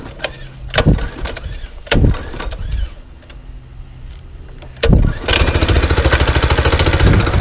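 A Coleman B200R minibike engine is pull-started in freezing cold with choke on, several loud pulls and sputters before it catches and settles into a loud, rapid, steady putter close by.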